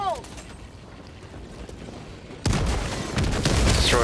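A grenade explodes in the Helldivers 2 video game, a sudden, loud, broad boom that rumbles on to the end, following a stretch of low background game noise with voices present.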